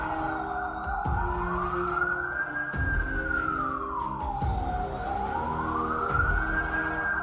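Wailing police sirens in a video game sweep up and down in pitch continuously, loud and close, with heavy low rumbling underneath, like a game soundtrack.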